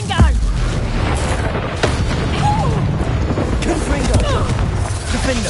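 A Confringo blasting spell exploding in the video game Hogwarts Legacy, a loud dense blast set within continuous battle noise and game sound, with voices talking over it.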